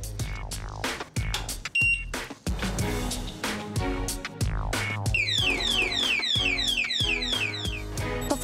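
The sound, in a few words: alarm padlock alarm sounding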